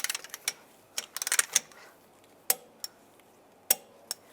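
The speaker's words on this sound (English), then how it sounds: "we'll torque the nut to 44 foot-pounds" Ratchet wrench clicking on the front driver's side CV axle nut of a 1999-2005 Volkswagen Jetta, a quick burst of sharp metallic clicks followed by a few isolated clanks spaced apart, fairly quiet.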